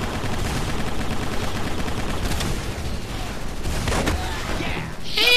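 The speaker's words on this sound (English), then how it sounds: "I wasn't using a machine gun, I was using an assault rifle" Assault rifle fire in the game Microvolts, dense rapid bursts of gunshots running almost continuously, loud and close, with a voice briefly mixed in near the end.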